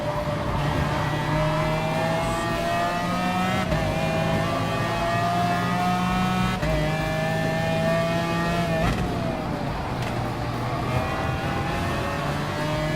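Race car engines in Gran Turismo Sport at Lago Maggiore, a Honda among the pack, whining and revving steadily with repeated gear shifts as several cars run close together.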